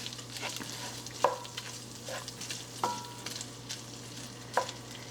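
Butter sizzles with sausage in a pan, a soft continuous frying hiss punctuated by three sharp clinks of a utensil stirring against the pan, close and fairly quiet with no talk.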